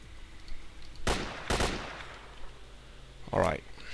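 Gunshots in S.T.A.L.K.E.R.: Call of Pripyat, fired through wood: two sharp, loud cracks about half a second apart, then a shorter shot near the end, all over a low steady background.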